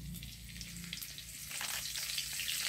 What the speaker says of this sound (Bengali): এবার আমরা এটাতে ফোড়ন দেব গোটা জিরে, আর দেব তেজপাতা